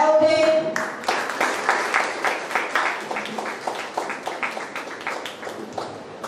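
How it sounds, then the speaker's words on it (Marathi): Applause at a student felicitation program in Chiplun, opening with a brief tonal sound, then rhythmic group clapping in steady, evenly spaced beats that gradually softens. "टाळ्या होते."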